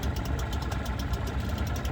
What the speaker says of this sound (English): Motor is running again! Motor 2 running!